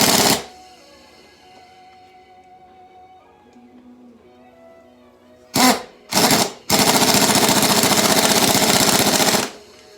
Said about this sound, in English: I hold it there, put the impact on it, put downforce on it,